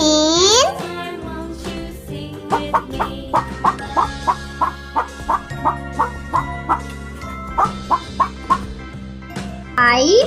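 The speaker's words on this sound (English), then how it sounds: "H for hen." A hen in a children's phonics rhyme, heard as a loud, rhythmic series of short clucks over a bright musical backing, with a longer stretched fowl call at the start and end.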